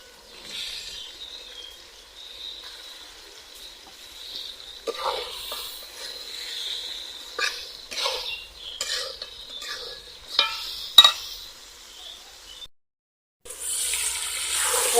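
Chicken pieces fry in a pan with bay leaves and whole spices, stirred now and then, giving a steady faint sizzle broken by scraping and clinking of the spoon against the pot, with no talk.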